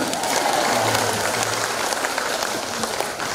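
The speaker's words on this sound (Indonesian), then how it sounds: "Mana tepuk tangannya?" Audience applause at a Catholic women's organization's 100th anniversary thanksgiving celebration in Palu, a steady dense wash of clapping filling the hall, with a faint voice or tone briefly underneath.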